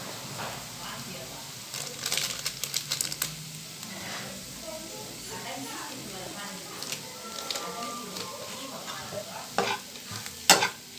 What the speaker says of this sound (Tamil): சேர்த்து இது நல்லா நம்ம கலந்து கொடுத்துக்கலாம்